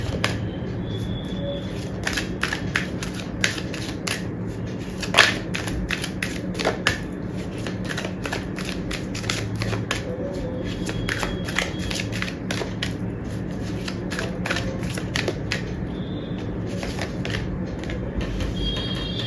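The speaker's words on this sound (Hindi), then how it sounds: "एक कार्ड और लेते हैं।" Tarot cards being shuffled and drawn, with a run of light, crisp papery clicks and flicks at close range over a low steady background hum, with no talking.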